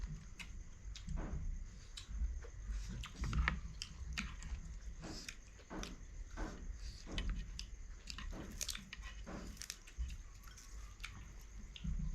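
Crunchy liver is chewed close to the microphone, with quiet, irregular crisp bites and mouth clicks over a faint steady background hum, and no speech.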